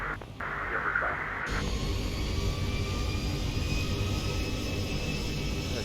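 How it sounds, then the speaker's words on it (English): Zibo Boeing 737-800 jet engines in X-Plane 12 roar in a loud, steady whine and rumble during departure from Albuquerque, with a brief dip at the start. "Let y'all get a good sound of those engines."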